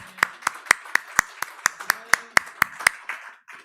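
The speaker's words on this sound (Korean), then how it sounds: "감사의 박수 드리겠습니다" A church congregation at an Easter Sunday service claps in unison: about eleven sharp, evenly spaced claps, crisp and close, with faint speech beneath them.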